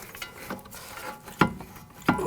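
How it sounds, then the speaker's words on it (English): A ratchet loosens bolts on the steering knuckle of a 2001-2009 Volvo S60 during front wheel bearing work, giving several close clicking pulls and a couple of sharper clacks, alone without talk. "Now take the bolts out."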